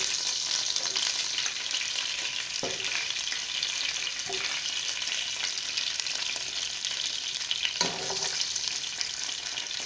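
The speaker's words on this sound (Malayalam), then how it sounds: "ഇപ്പൊ കടുക് ഇപ്പോ നന്നായിട്ട് പൊട്ടുന്നുണ്ട്." Mustard seeds crackle and sizzle in hot coconut oil in a pan for a Kerala-style potato curry, a steady frying hiss broken by a few sharp pops and stirring scrapes.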